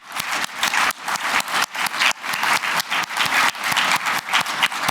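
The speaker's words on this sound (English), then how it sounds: "How about we give these folks a round of applause?" A conference talk audience claps in loud, close applause, the individual claps distinct and rhythmic, pulsing steadily for the whole stretch.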